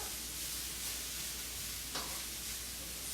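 Chicken curry cooking in a pan makes a faint, steady low sizzle with one soft stirring scrape midway, no voices.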